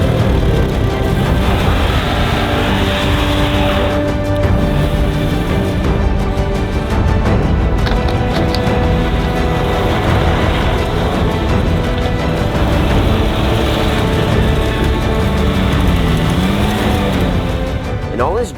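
A Can-Am Ryker built into an off-road machine roars as it drifts, its engine droning loudly and steadily throughout with tire and dirt noise mixed in, and voices talk over it.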